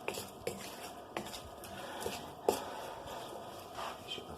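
A spoon stirs turkey and pepper in a pot, giving faint, scattered clinks and scrapes of metal on the pot over a quiet background, close by with no voices.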